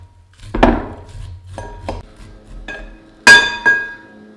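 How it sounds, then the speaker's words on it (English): Knife strokes cutting kernels off grilled corn on a hard board, about six sharp knocks and scrapes spaced unevenly, loud and close, with a bright clinking strike near the end. "Get a knife, corn, and just cut off the kernels."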